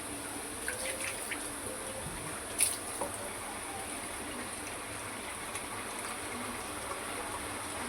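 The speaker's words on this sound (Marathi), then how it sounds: "त्यामध्ये पाणी घालूया." Water is poured into a cooking pot holding dried shrimp and potatoes, a faint, steady trickling stream with one brief clink partway through and no talking.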